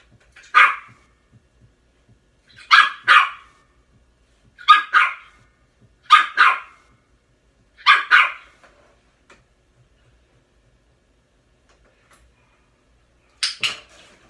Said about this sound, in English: When the barking stops for more than a couple of seconds